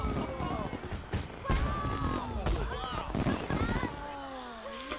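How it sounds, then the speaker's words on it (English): Fireworks explode across the night sky as sharp booming bursts and crackles, several spaced blasts heard under a person talking throughout. "Fireworks blossom across the night sky and we sigh in awe."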